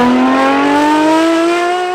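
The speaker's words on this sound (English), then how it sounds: "if you don't want an ASBO exhaust like this, you can spec that." Talos 599XX, a road-going Ferrari 599XX with a loud race-style exhaust, revving hard up close, a single rising tonal howl climbing steadily for two seconds.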